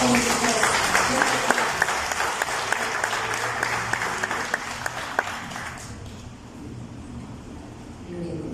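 A church congregation bursts into steady, loud applause, dense clapping filling the room for several seconds before tapering off into quieter murmuring.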